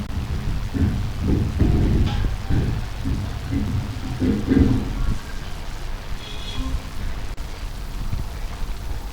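Heavy rain pours outside while deep thunder rumbles and rolls through the first half, then the downpour continues as a steady loud wash; faint voice-like sounds sit under the storm.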